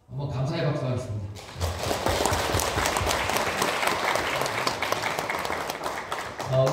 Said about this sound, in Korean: 한번 감사의 박수 하겠습니다.